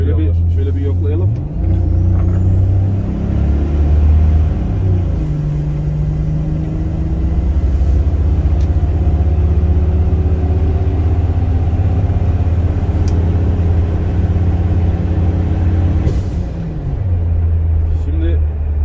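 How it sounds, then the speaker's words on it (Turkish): A Toyota VX80 Land Cruiser with a turbocharged 1FZ engine tuned to about 350 hp drones steadily and loudly from inside the cabin, a thin high turbo whine climbing and holding over the deep engine rumble. "Ya o turbolu sesi var ya çok tatlı ha."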